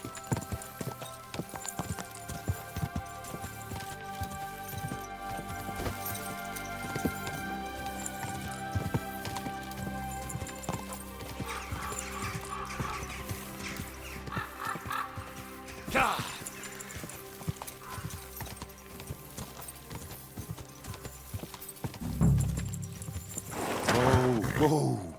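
Horse hooves clip-clopping at a steady trot while riding in the game Kingdom Come: Deliverance 2, continuous and rhythmic under game music, with a shout and a horse snort near the end.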